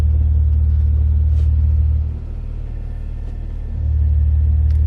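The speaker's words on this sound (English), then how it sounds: "Definitely gets a lot louder in sport mode when it opens up the exhaust." Deep, steady exhaust rumble from a Maserati Levante GranSport in sport mode with the exhaust valves open, loud and close, easing briefly in the middle before swelling back.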